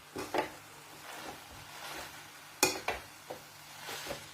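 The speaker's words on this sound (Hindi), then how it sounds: "अब इनको हमने तड़के में डाल दिया है और इसको हम धीमी आंच पर पकाएंगे" Spiced food stirred in a hot oil tempering over low heat, with a soft steady sizzle broken by several sharp scrapes and clinks of a utensil against the pan.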